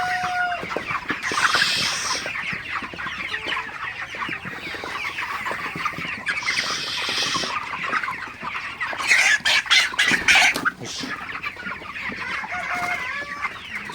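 Several broiler chickens clucking and squawking continuously inside a hot chicken house, busy overlapping calls with occasional louder bursts from the flock.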